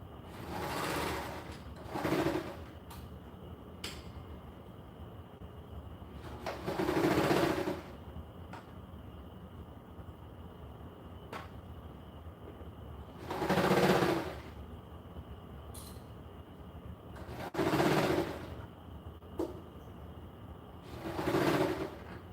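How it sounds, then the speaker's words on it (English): Sewing machine stitching body pieces of a garment together, several short bursts of rapid mechanical rattling separated by quiet pauses, close and moderately loud, with no talking. "normally I would sew all the body pieces together and then do all the waist and then the cuffs"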